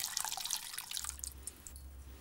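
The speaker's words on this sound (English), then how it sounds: "Just pour off this poaching liquid so that the flavours permeate into the rice." Salmon poaching liquid poured off in a kitchen, a brief splashing trickle of liquid with dripping spatters, close and fairly quiet, lasting about two seconds.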